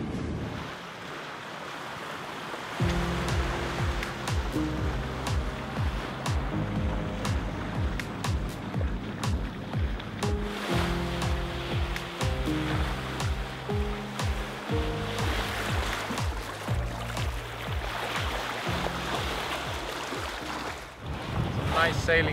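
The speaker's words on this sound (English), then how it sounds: "Sailing now." A Jeanneau Sun Odyssey 42 DS sailboat heads upwind in strong wind, with wind buffeting the microphone, waves washing against the hull and a low droning hum throughout, loud and close, with a voice or two briefly heard.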